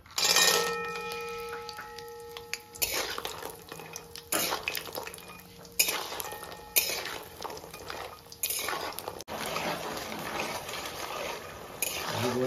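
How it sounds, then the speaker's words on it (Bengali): Lentil dumplings (bori) frying in hot oil in a home kitchen for a Bengali drumstick-flower posto dish, with a steady sizzle under repeated clinks and scrapes of a utensil stirring in the pan. "আমি আগে বড়িটা ভেজে নেব।"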